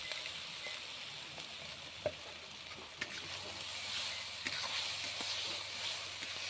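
Masala paste of ginger, onion and green chili frying in a pan on a village-style stove, a steady close sizzle with a few soft stirring clicks and no voices.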